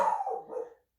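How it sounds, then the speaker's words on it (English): A single short dog bark or yelp, close and fairly clear, trailing off quickly into silence. "Sorry about the barking."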